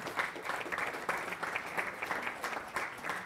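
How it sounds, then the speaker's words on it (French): A conference audience at DevFest Nantes claps for two 3D-printed robots making their first public appearance, a brief, fairly faint, steady patter of applause. "vous pouvez les applaudir parce que c'est leur première apparition publique"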